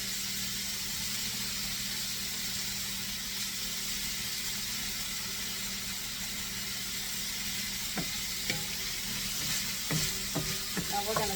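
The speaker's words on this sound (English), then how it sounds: "Now we're going to saute this" Cabbage and chopped meat for paella sizzle steadily in a hot pan with a constant frying hiss, and a few faint utensil clinks and stirring sounds come near the end.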